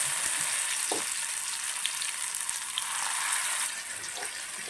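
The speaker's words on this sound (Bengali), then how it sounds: "বড়া দিয়ে দিচ্ছি।" Coriander leaf fritters fry in hot refined oil in a kadai, giving a bright, hissing sizzle with faint pops that eases noticeably near the end.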